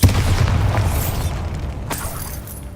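A deep, booming Bombarda spell explosion from the video game Hogwarts Legacy hits hard at the start, then a rumbling roar slowly fades over a few seconds.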